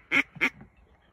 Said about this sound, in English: We got ducks flying.